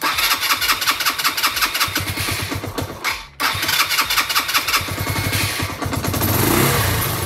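A 1998 Suzuki GN 125 motorcycle engine cranks with a rapid, rhythmic chugging, briefly cuts out, then catches and settles into a loud, steady idle close by.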